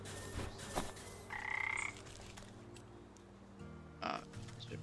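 Frog croaks in the video game Wytchwood: a few distinct, fairly loud croaks at irregular moments over a quiet ambient game soundscape, no talking.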